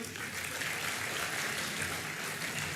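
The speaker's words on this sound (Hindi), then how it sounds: "कृपया तालियों से इनका अभिनंदन करें।" Audience at a convocation ceremony applauding, a steady wash of clapping heard from a distance at moderate level, uniform throughout with no voices standing out.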